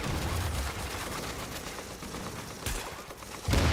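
Sustained suppressive gunfire in Tom Clancy's The Division, a dense continuous rattle of shots close and loud, briefly thinning near the end before a heavier burst resumes; no talking.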